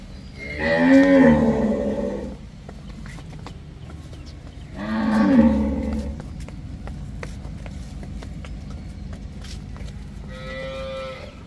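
Cows in heat at a dairy farm selling ten-litre milkers moo twice in long, loud, drawn-out calls, followed by a softer third low near the end over steady farmyard background.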